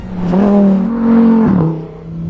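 The 5.2-litre mid-mounted engine of a rear-wheel-drive Lamborghini Huracan Evo revs loudly and close by, its pitch rising, holding high, then dipping over about two seconds.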